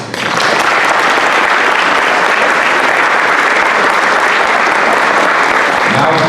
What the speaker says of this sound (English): let's please give them the applause they deserve